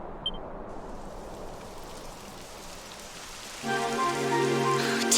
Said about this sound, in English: Typical. It would have to go and start raining, wouldn't it?